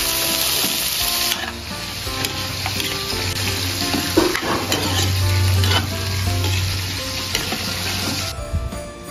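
Fried chicken sizzles in hot oil at a home kitchen cooking session, a loud, close, continuous crackling hiss with faint clinks of a pan.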